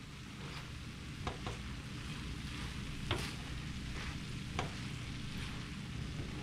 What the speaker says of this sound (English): You hear it sizzling away?